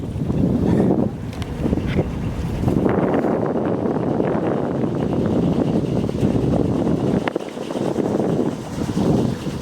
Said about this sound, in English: Most impressive is the part where there's actually a little wind picking up.